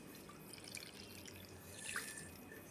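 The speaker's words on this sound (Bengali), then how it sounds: "এর মধ্যে আমি জলটা ছেঁকে নিচ্ছি" Water strained through a sieve into a bowl while making lemon ice cream in a home kitchen drips and trickles faintly and continuously, with small irregular droplet splashes and no talking.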